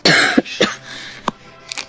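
Several sharp coughs, close and fairly loud, in short bursts separated by brief pauses, with no talking.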